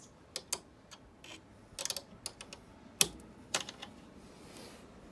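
Swage hex tensioner screws are turned on a wire, giving faint, scattered clicks and small metallic ticks with short gaps between them.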